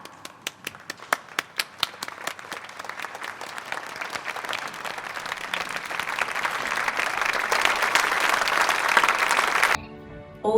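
Audience applause starting as a few scattered, distinct claps that quickly swell into dense, continuous clapping from a crowd, loud and sustained before cutting off abruptly near the end.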